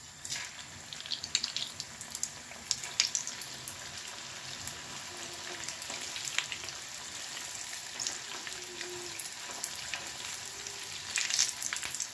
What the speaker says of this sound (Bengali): ফ্রাই করা হয়ে গেছে, রোলগুলো আমি উঠিয়ে নিতেছি।